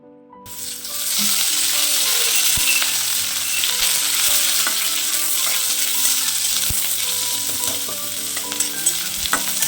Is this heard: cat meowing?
no